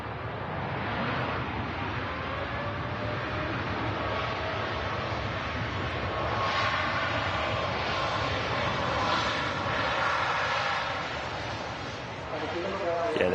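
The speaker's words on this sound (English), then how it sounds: "there goes the TUI Dreamliner" A TUI Boeing 787 Dreamliner takes off at Manchester Airport with a sustained, broad jet-engine roar that swells slightly and holds steady, heard from a distance with people talking over it.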